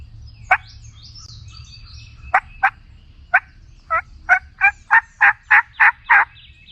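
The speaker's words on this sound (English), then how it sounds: "The last time I heard them gobble, they only gobbled 1 time" A wild turkey gobbles repeatedly in Missouri, first a few scattered calls, then a rapid run of about ten gobbles growing louder, over a faint low background hum.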